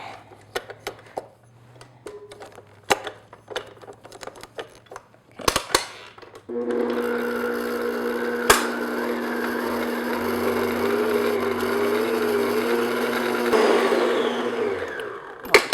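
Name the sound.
electric mixer beating whoopie pie filling with vanilla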